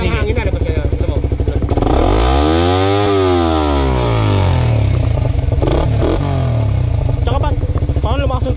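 A Suzuki Raider R150 Fi with its air box removed idles raspy and loud up close, then revs hard up to a high scream and back down before returning to a choppy idle. Voices are heard over the engine.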